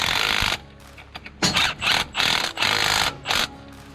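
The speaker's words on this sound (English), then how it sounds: "Extract your punch, and then tighten the lower 2 nuts." Nuts on a Case SDX early-style depth adjuster are tightened in a series of short, loud, buzzing bursts from a close-up power tool, separated by brief pauses, with no talking.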